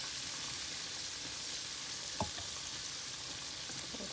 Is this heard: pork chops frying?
yes